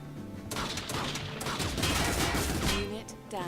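Machine gun fire in a strategy video game, fired from a unit at grenade-launcher troops: dense, continuous rattling bursts with explosive cracks, loud and sustained over the whole stretch, with a commentator's voice faintly underneath.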